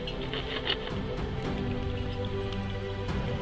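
Rain falls steadily over a carp fishing spot, a continuous patter of drops hitting the surface at close range with scattered brighter splashes.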